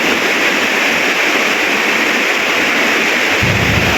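Heavy rain pours steadily over a market during a power cut, a loud, constant broadband wash with no pauses and no voices.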